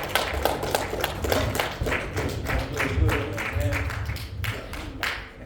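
A gathering on Torah-centered economics claps for Brother Harry, a dense patter of hands lasting several seconds and fading near the end, with some voices mixed in underneath.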